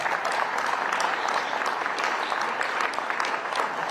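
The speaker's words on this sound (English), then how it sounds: "Can you give them a nice warm round of applause?" A crowd claps steadily at a groundbreaking ceremony for a new O'Hare Airport terminal, a dense, even round of applause that holds throughout.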